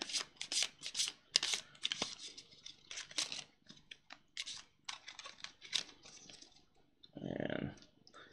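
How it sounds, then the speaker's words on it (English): A deck of scavenge cards from a board game being shuffled by hand, bursts of crisp riffling and slapping in irregular clusters, close and fairly quiet, ending with a brief soft rustle. "I'm going to shuffle this a little bit on camera so you guys can see what the deal is here."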